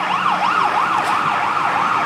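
An ambulance siren wails loud and close in a steady, repeating rise-and-fall pattern over road traffic noise, with no voices.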